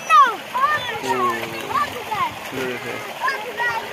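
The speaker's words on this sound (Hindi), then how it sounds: "बड़ी तेज पानी चल रहा है।" Children splash in strongly running cold water while bathing outdoors, the splashes and rushing water heard under excited children's voices and adult chatter.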